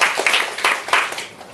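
A training-session audience gives a short burst of applause, a few loose, uneven claps standing out near and fairly loud before trailing off quickly.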